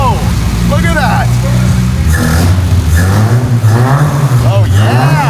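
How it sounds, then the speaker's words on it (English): A $1,500 race car's engine turns over, catches and revs repeatedly, loud and close, with excited voices shouting and talking over the rising and falling engine note. "Let's start the car."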